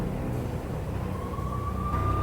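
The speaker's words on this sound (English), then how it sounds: "The NYPD was closing in. I could hear the sirens. Their wail was a crescendo." Police sirens wail in the Max Payne game as the NYPD closes in, a single rising tone emerging faint and distant over a dense, steady low rumble of game ambience.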